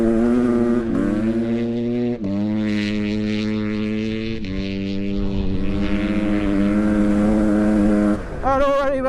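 A Husqvarna 500cc two-stroke fuel-injected dirt bike is ridden with its engine loud and close, revving in a buzzing, rising and falling drone. The engine dips briefly around two seconds and again near the end.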